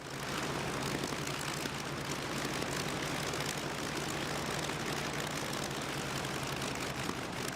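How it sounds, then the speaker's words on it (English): A restored Focke-Wulf 190 warbird roars in flight on its maiden test, its piston aircraft engine and propeller giving a loud, steady, close drone that holds evenly for the whole stretch. "Warbird test pilot Steve Hinton bravely lifted into the skies for a 20-minute maiden flight to test all major systems."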